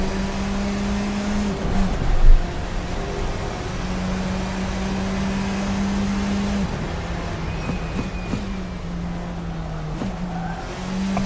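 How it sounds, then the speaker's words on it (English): An RSS F4 race car in a racing sim roars at a steady pitch from close behind, the engine note dipping and shifting through gear changes, with brief tyre squeal and no talking. "So the engine sounds like it's right behind you"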